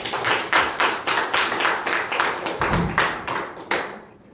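A group clapping hands at a company year-end party, a brisk rhythmic burst of claps at a steady beat lasting a few seconds before stopping, with no talk over it.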